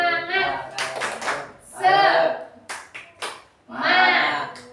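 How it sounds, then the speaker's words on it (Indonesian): A school class claps out a rhythmic spirit cheer, bursts of hand claps alternating with young voices chanting loudly together, close and lively, in a classroom. "Sok tepuk semangat."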